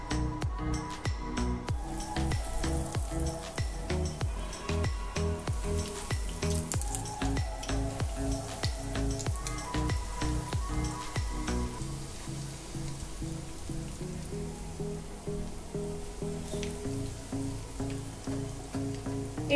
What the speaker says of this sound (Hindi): तेल भी अब गर्म हो चुका है। अब हम इसे शैलो फ्राई करेंगे।